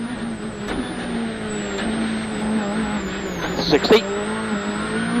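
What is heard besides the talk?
rally car driving a WRC stage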